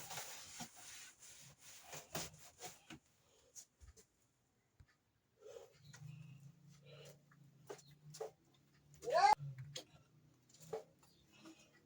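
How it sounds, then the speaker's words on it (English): A cloth wipes dust off wooden furniture in a home, giving soft intermittent rubbing strokes, faint and close, with quiet pauses between them. "Wiping the dust off."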